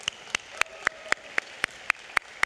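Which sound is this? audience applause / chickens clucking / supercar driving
audience applause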